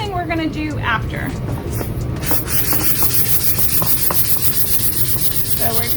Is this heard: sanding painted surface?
yes